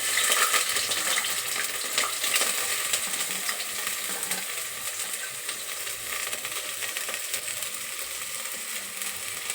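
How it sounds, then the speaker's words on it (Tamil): Sliced onions hit hot oil for chilli chicken and fry with a loud, dense, continuous sizzle and crackle that eases slightly as it goes on. "எண்ணெய் காஞ்சிடுச்சு, வெங்காயம் போட்டுக்கலாம்."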